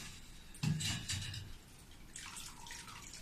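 Water is wrung from a cloth full of chhena, giving a close splash followed by trickling and dripping into a vessel, quiet and intermittent.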